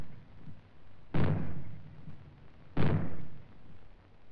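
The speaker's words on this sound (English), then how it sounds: "When fallout is expected, you will hear 3 bangs in short succession. They will be sounded by means of maroons like this." Two deep booming bangs from maroons sounded as a fallout warning, spaced about a second and a half apart, each with a short rumbling decay, heard alone and fairly loud.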